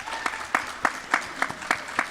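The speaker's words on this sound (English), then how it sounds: "let's go ahead and have a round of applause" Conference audience applauding in a room, a faint, thin clapping bed punctuated by about seven sharper, evenly spaced claps or bursts over roughly two seconds.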